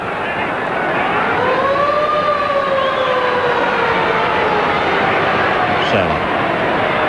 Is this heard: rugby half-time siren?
yes